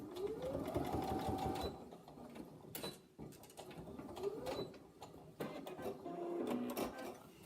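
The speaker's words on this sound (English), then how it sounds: "Now I'm going to machine those pieces" A sewing machine stitches fabric pieces for a fabric pot in fast rhythmic bursts with a whirring motor, pausing briefly between runs before starting again, up close.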